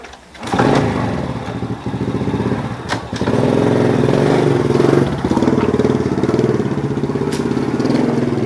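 An old motorcycle inherited from a father starts with a short burst, falters for a moment, then settles into a loud, close, steady putter, with a brief rev near the middle.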